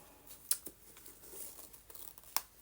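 Scissors cutting through eco-dyed textile layered with a watercolor painting, with a couple of sharp, quiet snips among soft rustling and crinkling, close but faint.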